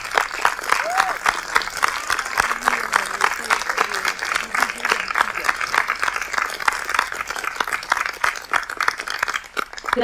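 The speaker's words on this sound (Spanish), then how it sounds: "Un aplauso para la joven estudiante Tamata Jimdrad." Audience applause at an outdoor Mexican festival celebration in Barcelonnette, France, honoring a young student: dense, steady clapping from a sizeable crowd throughout, fairly close, with a light murmur of voices mixed in.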